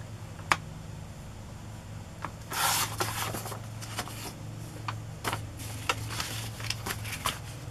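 Paper journal pages are trimmed with short scraping, rubbing strokes and crisp little clicks and taps, close by and moderately loud over a faint steady background hum.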